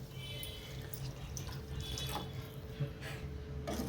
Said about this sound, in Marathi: आता शिजण्यापुरतं पाणी घालून घ्यायचं.